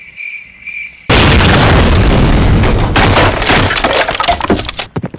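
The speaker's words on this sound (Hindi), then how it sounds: "साले दिवाली के बम से डरा रहे हैं।" A Diwali firecracker bomb goes off after a brief electronic tone, making a loud close blast followed by several seconds of dense crackling and rumbling that break into scattered pops as it dies away.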